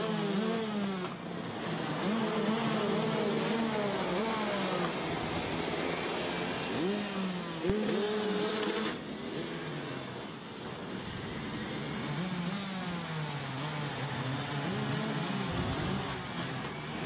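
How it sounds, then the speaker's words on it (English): Racing engines at the start of a Masters race at Wittgenborn in Germany in 2020, a field of engines revving and accelerating with overlapping rising and falling whines, heard steadily at a moderate distance without speech. "the revs rise, they push the accelerators to the floor, and it is a clean start"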